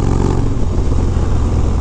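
Harley Dyna motorcycle with a Bassani Road Rage exhaust, baffles removed, running loud and close with a steady, rumbling deep engine roar under heavy wind buffeting.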